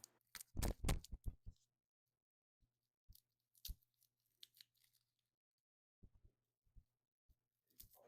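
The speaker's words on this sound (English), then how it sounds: "smash each clove with the flat side of my knife to loosen the skin" Garlic cloves crushed with the flat side of a kitchen knife, then peeled by hand: a few sharp close cracks at the start, followed by sparse soft crackles and faint papery skin rustling.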